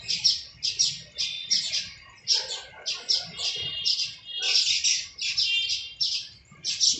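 Small birds chirping at their nests in a tree, rapid bursts of bright high tweets repeating in quick clusters, fairly close and clear over a faint low background.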